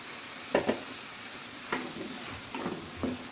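Minced chicken and pointed gourd being stirred in a frying pan, heard as a few short, soft scraping strokes of the spoon spaced out over a few seconds, with a faint sizzle beneath.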